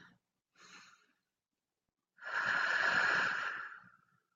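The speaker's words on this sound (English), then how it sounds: "And take a big breath." Two short, soft breaths are followed by one long, deep exhale that swells and fades in a quiet, close space with no other sounds.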